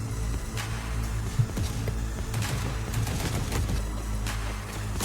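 Gunfire in a survival video game, rapid repeated shots rattling in dense bursts over a constant low rumble, loud and continuous with no talking.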